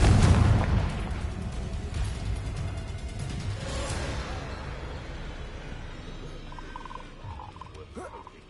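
Confringo blasting curse detonating in Hogwarts Legacy, a loud booming burst at the start that rumbles and fades out over several seconds.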